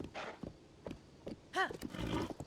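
A horse in The Legend of Zelda: Tears of the Kingdom gives a few scattered hoof thuds, then a clear, short whinny near the middle of the sound, followed by softer snorting and movement.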